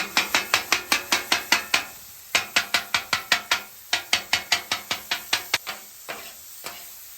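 Rapid, rhythmic metal scraper chops through meat on a hot griddle for a chopped cheese sandwich, over a constant sizzle, in quick bursts separated by short pauses.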